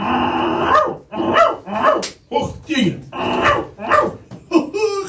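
Chatzari, a sheepdog at a mountain sheepfold, barks repeatedly in a rhythmic series and growls between barks, close and loud, while a person talks over it.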